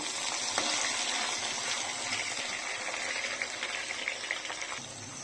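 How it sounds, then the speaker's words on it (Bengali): Chopped onion, garlic and green chili frying in hot oil in a pan, a dense continuous sizzle heard close and steady throughout with no talk. "প্যানে তেল বসিয়ে দিয়েছি। এখন পেঁয়াজ রসুন আর কাঁচামরিচ কুচিটাকে সুন্দর করে একটু ভেজে নেব।"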